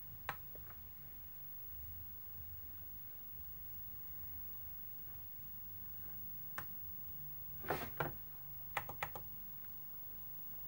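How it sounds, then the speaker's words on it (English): Button clicks on a repaired Commodore Amiga A500 tank mouse sound as faint, sharp single clicks and a few quick pairs near the end, set against a quiet room. "Got a good solid click there on the mouse."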